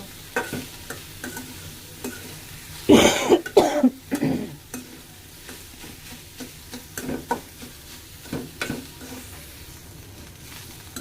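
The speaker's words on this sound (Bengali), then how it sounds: "ভাজা ভাজা করে নামাই নেব" Bottle gourd peel frying with onion and coriander leaves in a pan, stirred with a spatula that clatters and scrapes in bursts over a soft, steady sizzle, with one loud cluster of scraping near the start.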